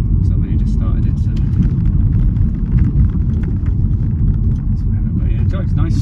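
A small diesel engine in a Volvo V40 runs steadily just after starting, a loud, constant low rumble filling the whole stretch, with a voice talking over it.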